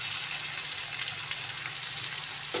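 Eggs go into a pan of fried onion masala that hisses with a loud, continuous sizzle, close up and steady throughout, with a faint clink near the end.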